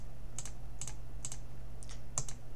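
Computer keyboard keys pressed one at a time while holding the control key, giving five or six sharp, close clicks spaced irregularly over a faint steady hum.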